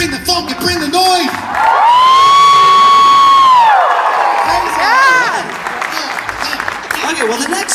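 A live concert audience cheers and claps for a five-member singing group, with loud whoops and one long held shout rising over a dense, continuous roar of voices and applause.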